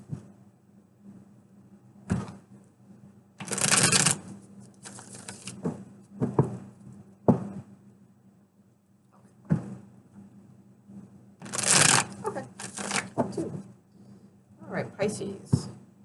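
Tarot cards being shuffled, in several short bursts of riffling patter separated by quiet gaps, with a voice speaking between the shuffles.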